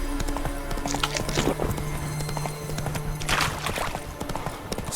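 A horse gallops in The Witcher 3 with rapid, close hoof clip-clops on the ground and a brief whinny, loud and steady without talk.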